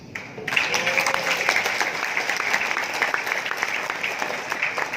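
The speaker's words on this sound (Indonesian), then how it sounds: "Sebenarnya tidak perlu tepuk tangan nggak dapat sepeda." A conference hall audience at a national coordination meeting breaks into steady applause after a brief quiet start, many hands clapping in a dense, sustained patter at moderate volume with no speech.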